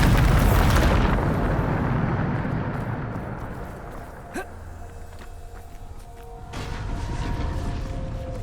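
A Bombarda spell explosion in the video game Hogwarts Legacy, a loud opening blast that rumbles and decays over several seconds, followed by quieter magical zaps and effects.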